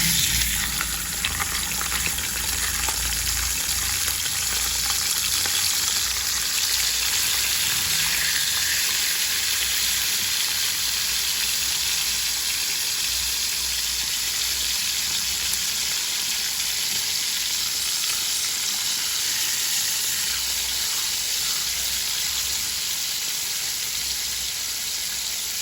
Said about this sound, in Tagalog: Mainit na po ang mantika. Pwede na po natin ilagay ang bangus.